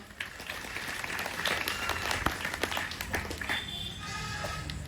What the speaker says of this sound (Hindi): तो चलो सब जोरदार ताली के साथ हमें धन्यवाद देवा